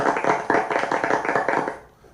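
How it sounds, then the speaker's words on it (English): Conference audience breaking into a round of applause, dense steady clapping from many hands that holds for under two seconds and then quickly fades out. "Let's give her a round of applause."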